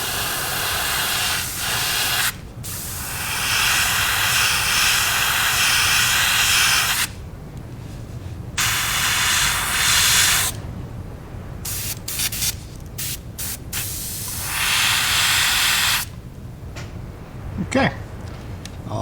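An airbrush sprays white paint onto the belly of a crackle shad pattern fishing lure. It makes a steady, close airy hiss in several long passes broken by short gaps, with quieter moments in between.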